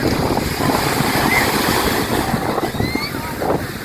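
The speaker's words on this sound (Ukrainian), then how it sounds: "Хвилі просто чудові," Black Sea waves at Golden Sands wash and roll in a constant surging roar, mixed with wind buffeting the microphone, fairly loud and close.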